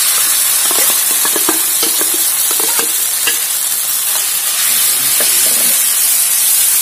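Paneer mixture sizzles in about a tablespoon of hot oil while being stirred for potol dorma, a steady loud hiss broken by repeated scraping strokes of the spoon.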